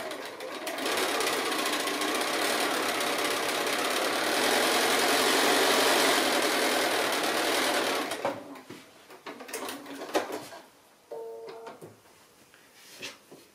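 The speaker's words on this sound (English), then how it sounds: "So I'm going to be sewing with a 1/4 inch seam on, in this case, the stripy fabric here," Steady, close whirring of a sewing machine running a quarter-inch seam through striped quilting fabric and batting for about eight seconds, then stopping into quieter handling sounds and short bursts.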